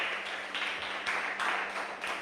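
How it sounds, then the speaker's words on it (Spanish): Church congregation clapping hands together as an offering of praise, a dense steady patter of many palms from a roomful of people at moderate distance, continuing with slight swells and no voices. "Dale una ofrenda de palmas al Señor."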